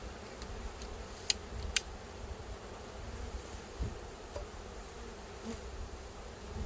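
Newly installed honey bees buzz around a hive, a faint continuous hum with a couple of small sharp clicks, heard up close outdoors against low wind noise.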